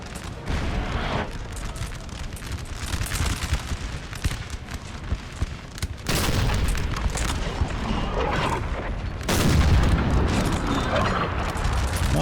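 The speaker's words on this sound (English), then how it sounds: "Looks like I'm trying to fire on Hanover with my artillery." Artillery fire in a Napoleon Total War battle, a dense continuous barrage of booming cannon shots and rumbling impacts that swells louder in bursts, with no talk over it.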